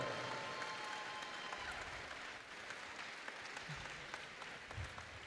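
Quiet, distant applause for the runner-up team at a FIRST Tech Challenge robotics tournament, a steady wash of clapping from the seated crowd that stays faint throughout.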